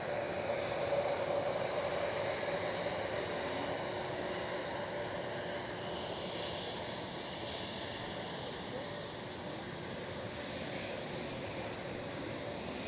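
A JetBlue airliner moves past at Edinburgh airport, a continuous distant engine rumble and hiss that slowly fades, with wind noise washing over it.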